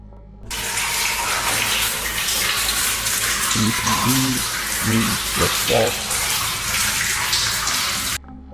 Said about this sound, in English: The steady drip of water slightly muffles the eerie noise